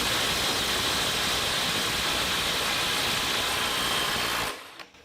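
Snap-on CT9010 cordless impact wrench in loosen mode at 200 foot-pounds, a loud continuous buzzing hammer close by for over four seconds before cutting off abruptly.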